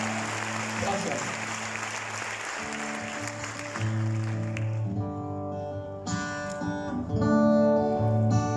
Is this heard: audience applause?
yes